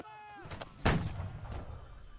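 A single sharp musket shot cracks out mid-range on a Holdfast: Nations At War battlefield, with a fainter distant report trailing after it over a low rumble of ambient noise.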